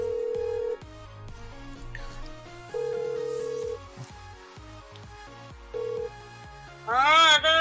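A phone ringback tone plays while a call is placed: three long, steady beeps a couple of seconds apart over looping game background music, then a voice speaks.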